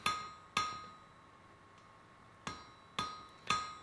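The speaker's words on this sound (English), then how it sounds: "I am doing a double set down over the edge of the anvil" A hammer strikes hot wrought iron over the edge of an anvil during a forging set-down: five sharp, ringing metallic blows, a pair close together, a long pause, then three more in quicker succession, each with a short bright ring.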